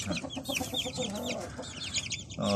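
One-month-old Thai Chee show-line chicks peep and cluck together up close, a dense, busy chorus of overlapping high chirps that never lets up.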